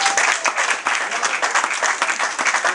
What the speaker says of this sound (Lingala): Merci beaucoup, bel applaudissement.